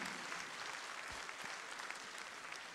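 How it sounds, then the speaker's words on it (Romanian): A concert audience in Craiova claps steadily during a memorial music recital in November 2022. The sustained applause sounds somewhat distant and quiet. "Vă rog aplauze."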